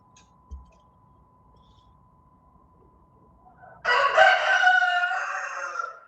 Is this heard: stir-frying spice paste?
no